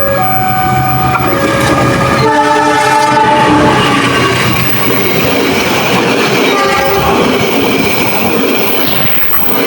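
An Indonesian passenger train, the Pangandaran service from Gambir to Banjar, roars past up close with a steady rumble and rhythmic wheel clatter, its horn sounding loudly in several long blasts.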